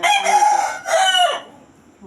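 A rooster gives one loud, close crow in two drawn-out bursts that fades into quiet, with no talking.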